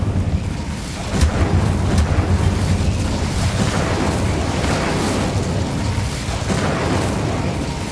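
The Incendio fire spell cast in Hogwarts Legacy, a loud booming roar with rumbling bursts and sharp crackling hits, sustained for several seconds, no voices.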